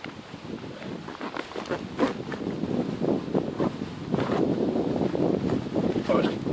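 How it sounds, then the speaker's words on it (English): Wind gusts outdoors at a dug woodland shelter, buffeting the microphone with steady rushing noise and rustle that builds over several seconds, fairly close and loud. "Oh, the wind's picking up"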